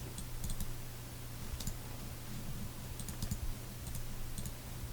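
A computer mouse clicks to save in Microsoft Access, a few small sharp clicks in pairs and short runs spread across a quiet, steady background hum.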